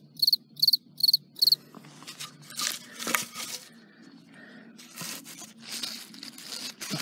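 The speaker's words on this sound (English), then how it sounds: "can you tell me where the fucking cricket is" Four loud, sharp cricket chirps pulse in quick succession at the start, then give way to rustling, tearing and crinkling handling noises that fill the rest of the clip.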